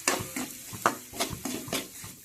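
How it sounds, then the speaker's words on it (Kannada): Bombay rava semolina roasting in ghee in a pan, stirred in a steady rhythm of scrapes with a soft sizzle underneath, close and fairly quiet. "ಇದಕ್ಕೆ ರವೆ ಮಿಕ್ಸ್ ಮಾಡಿಕೊಂಡು ಚಲೋತ್ನಾಗಿ ಹುರ್ಕೊಳ್ತೇನೆ"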